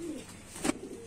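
A pet pigeon in a neighbourhood loft in Daraganj, Prayagraj, gives a single short low coo, fairly close, over a faint background hum.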